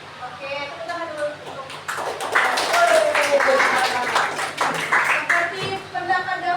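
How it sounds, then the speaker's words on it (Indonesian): Audience clapping hands in a school counseling session, a burst of brisk clapping building and continuing for several seconds, with voices and some tonal sounds mixed in. "Oke, tepuk tangan dulu."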